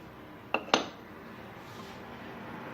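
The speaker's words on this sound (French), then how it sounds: "Maintenant on va prendre le moule." A baking dish for a potato, pasta and chicken gratin is picked up and set down, giving two sharp clinks in quick succession, close and fairly crisp, followed by quiet room tone.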